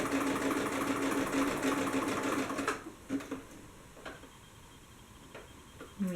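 A sewing machine runs steadily along a quarter-inch seam on a pair of paperbag pants for nearly three seconds, then stops, leaving faint scattered clicks and taps.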